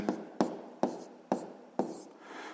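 Pen strokes on paper during a math exercise: five quick scratching marks spaced about half a second apart, close and distinct in a quiet room.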